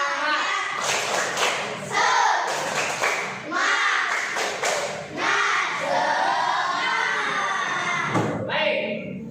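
A class of children claps in a quick rhythmic spirit-clap pattern after a count of three, mixed with shouting and lively voices, loud and close throughout.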